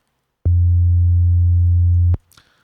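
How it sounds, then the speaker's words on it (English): A pure low-pitched sine test tone, played for bass layering, switches on abruptly and holds perfectly steady for under two seconds. It cuts off cleanly, followed by a brief faint click. "So we have a sine wave, right?"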